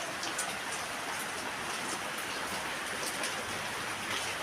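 Heavy rain pours steadily in a dense, even hiss, close and loud, with scattered drop impacts pattering throughout and no voices.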